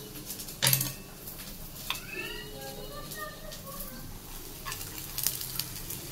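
Chopped garlic dropping into a hot frying pan, a brief sizzle and clatter of utensils against the pan with stirring sounds, while a person talks over the cooking.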